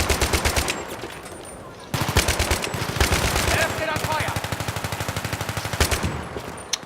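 Automatic weapon fire in Battlefield 3, with rapid bursts of shots in a tight, even rhythm, loud and continuous, broken by brief pauses.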